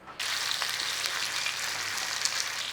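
Meat searing in a pressure cooker on saute, a sudden onset of a steady, even sizzle that holds fairly quietly and close with small crackles, no talking.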